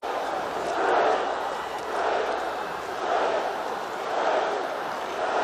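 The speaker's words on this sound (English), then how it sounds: "You hear the chanting of the maize and blue Michigan crowd, led by their fine band" Maize-and-blue Michigan crowd chanting in a stadium at the 1981 Rose Bowl, led by the Wolverines' marching band, a dense roar swelling and easing in steady rhythmic waves about once a second.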